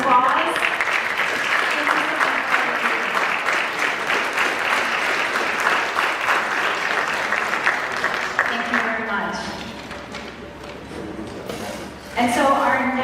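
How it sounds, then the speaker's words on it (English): An audience at a Guyana Independence Day celebration applauds members of the Guyanese American Law Enforcement Association, with loud, dense clapping that runs steadily for several seconds before thinning out, and voices are heard mixed in near the end. "Can you please stand up so we can give you a round of applause?"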